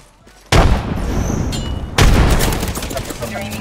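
Loud bursts of rapid gunfire in Apex Legends, two heavy volleys with a sharp onset, the second starting about a second and a half after the first, each followed by sustained shooting and clatter.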